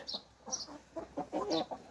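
Hens cluck in short, uneven bursts close by, with a few sharper calls mixed in and no talking.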